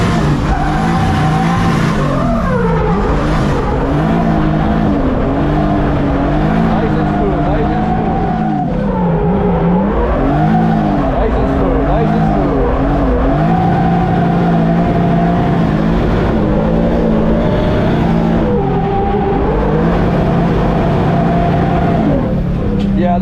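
A drift car runs hard on track, its engine loud and continuous with rising and falling revs and tire squeal throughout, heard from close by the car for over twenty seconds.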